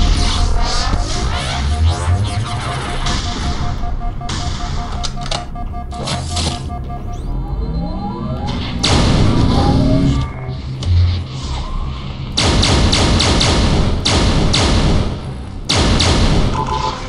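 Loud booming blasts from grenades in the Halo SPV3 game, several heavy thuds and bursts scattered through a busy, dense mix of gunfire and game effects.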